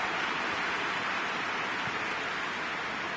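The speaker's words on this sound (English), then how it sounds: "Just starting to get the first signs of rain here." Rain falling on the pitch in a football video game, a steady hiss of broadband noise with no distinct drops or pauses.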